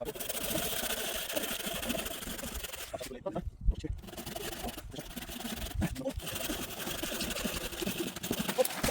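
A Dnipro-M hand saw cutting through a piece of wood, giving steady rapid rasping strokes close by, with a couple of brief pauses between runs.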